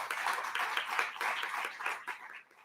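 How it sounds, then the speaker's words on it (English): An audience at an honors program recognition ceremony claps briefly and faintly, an even patter of hands that tapers off after a couple of seconds. "Another round of applause for this group."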